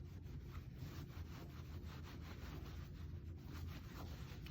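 Scrubbing paint marker off a glass box: steady, soft rubbing strokes that repeat in a quick rhythm, close up and faint, with no talking.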